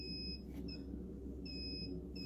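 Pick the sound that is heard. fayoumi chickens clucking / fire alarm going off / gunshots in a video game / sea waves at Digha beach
fire alarm going off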